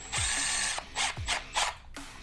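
A screw being tightened on an electrical outlet cover, heard as a few close bursts of a small power driver whirring in short pulses with brief pauses between, fairly quiet and free of speech.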